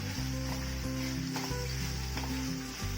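Chapati pieces sauté in hot oil in a pan, a soft continuous sizzle and hiss with a steady low hum beneath, fairly quiet and close.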